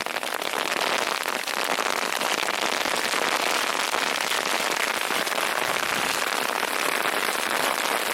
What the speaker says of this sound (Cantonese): 好大雹啊！ 雹勁大，冰雹啊！